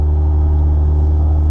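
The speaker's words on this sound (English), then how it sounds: "I'm literally at 2200 RPM right now, just sitting at idle" A Mazda Miata engine sits at a steady idle around 2200 RPM, a loud, close, even low hum and rumble that holds without change.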